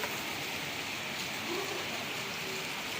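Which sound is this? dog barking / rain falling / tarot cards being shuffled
rain falling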